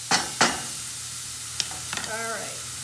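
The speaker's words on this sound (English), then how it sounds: "Hear that sizzle? Things are cooking." Vegan couscous ingredients sizzle faintly in a pan, a steady low hiss broken by a few sharp clinks and scrapes of stirring, with no talking.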